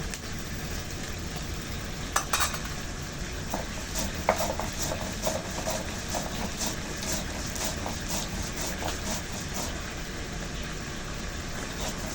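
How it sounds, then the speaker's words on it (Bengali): Stalks, potato and beetroot fry in a pan for a vegetarian spinach dish, with a steady sizzle and occasional spatula knocks and stirring scrapes close by. "ডাটা আলু আর বিটটা আগে যে দিয়েছি ওটা একটু ভালো করে ভাজবো"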